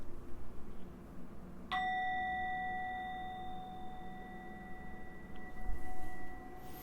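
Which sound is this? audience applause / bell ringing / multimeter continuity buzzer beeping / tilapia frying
bell ringing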